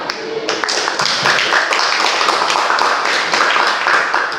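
Clapping from a small group of students in an automotive engineering class after a group presentation, a brisk burst of handclaps with some faint voices mixed in.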